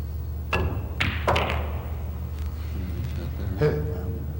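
Billiard balls clack in a 3-4-5 combination shot, a few sharp knocks in quick succession over a steady room hum, followed later by a fainter click, at moderate distance.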